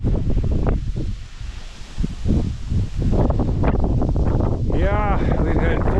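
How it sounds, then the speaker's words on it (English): Strong gusts of around 40 mph batter the microphone outdoors on a windy trapping day, giving a loud, continuous low rumble and buffeting, with a brief faint whistle-like tone near the end. "So it's just too windy today."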